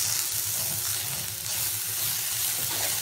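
Coarsely crushed garlic frying in hot oil in a pan for a Jaffna-style prawn curry, a steady, close, dense sizzle with faint stirring, no voices.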